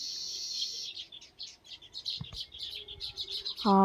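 Busy, high-pitched chirping from a group of weaver birds, quick overlapping calls close by, ending with a brief tonal sound.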